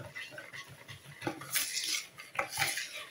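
Gluten-free, lactose-free madeleine batter being briefly mixed after adding yeast, with close scraping and clinking of a utensil against a bowl in a few quick bursts, growing louder toward the end, no talking.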